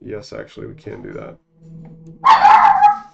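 A dog barks once in a loud, close burst right after a person finishes speaking indoors.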